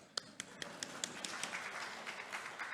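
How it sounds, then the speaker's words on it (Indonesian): A church congregation claps during a sermon, a run of sharp hand claps at a steady, quick rhythm that thickens into scattered applause, moderately close and fairly quiet. "Kita kasih tepuk tangan."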